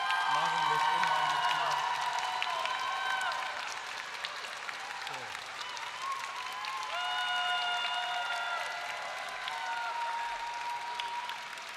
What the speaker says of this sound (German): die haben jetzt mal einen absoluten Applaus verdient